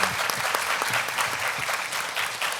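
Audience applause for a department manager at a hearing-loss forum panel discussion, a loud, dense, continuous round of clapping from a seated crowd lasting throughout.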